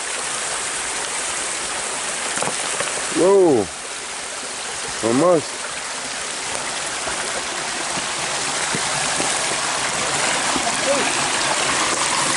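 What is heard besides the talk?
small forest waterfall and creek flowing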